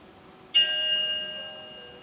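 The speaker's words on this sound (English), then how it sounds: "Nice chime." A 1996 KONE traction elevator at a Holiday Inn sounds its arrival chime, a single clear bell-like tone that strikes suddenly and rings on with a slowly fading sustain over a quiet background.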